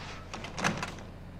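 A locked door is tried in the horror game Outlast, set in an asylum: a few muffled rattling knocks and thumps over a steady low background hum, with no talking.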